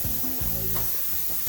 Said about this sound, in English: I'm spraying that contact cement down